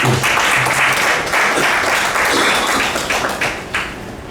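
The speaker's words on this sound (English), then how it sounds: "we should actually applaud ourselves for that" Rotary club members at a governor's official visit give a loud, close round of applause, full and sustained before it thins out near the end.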